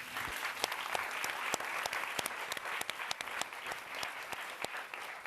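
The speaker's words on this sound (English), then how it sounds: "she deserves a round of applause as well" Audience applause at a panel on socioeconomic inequality, a dense spread of many hands clapping at once, steady and fairly distant, with no talk over it.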